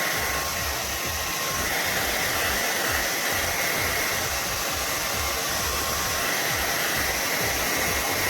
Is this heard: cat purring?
no